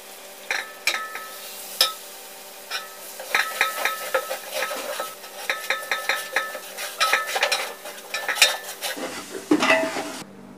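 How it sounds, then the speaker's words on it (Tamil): Yogurt is stirred into a frying beef biryani masala. A spoon clatters and scrapes repeatedly against a metal pot above a soft sizzle, the clinks coming in uneven bursts, close and clear. "நம்ம தயிர் ஊற்ற வேண்டியதாக 100 ml தயிர் நான் ஊற்றுறேன்"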